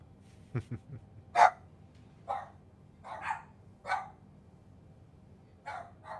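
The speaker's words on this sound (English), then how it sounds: "Oh, the dogs must have heard something." Dogs barking in a room with a low background hum, a couple of quick yips followed by several separate woofs spread out, moderately loud and close, with no talking over them.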